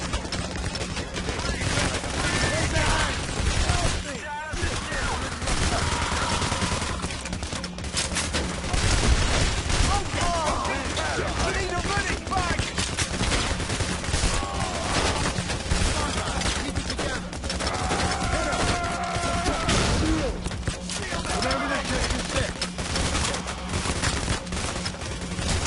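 Dense rapid gunfire in the heist video game PAYDAY, continuous bursts of shots over a steady background hum with a voice talking throughout.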